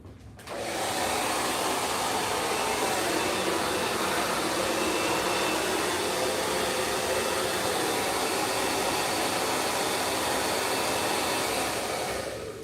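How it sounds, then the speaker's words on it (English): A hair dryer blows on stretched 4C hair, a loud steady high-pitched whirring rush of air that starts abruptly after a brief quiet moment and runs unbroken for about twelve seconds with no talking. "blow dry it in its stretched state"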